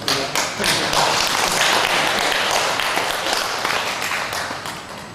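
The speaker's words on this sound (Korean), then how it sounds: "박수 한번 할까요?" Applause fills a church as a congregation claps together, a dense, bright patter that starts suddenly, holds steady for several seconds, then slowly fades.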